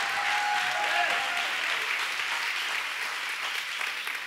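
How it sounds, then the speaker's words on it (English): A church congregation claps in a dense, sustained round of applause that fills the room, with a brief voice at the start and the clapping continuing steadily throughout. "You got to clap because I feel something breaking."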